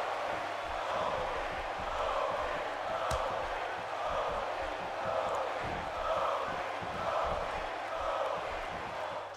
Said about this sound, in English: Trying to hear what the crowd's chanting now.